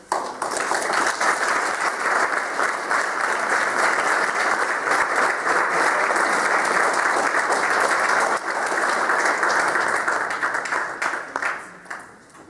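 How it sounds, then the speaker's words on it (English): An audience at a Marine Corps JROTC birthday ball bursts into sustained, dense applause, many hands clapping loudly together before it thins out and fades at the end. "Could we all please give a big round of applause to the cadets"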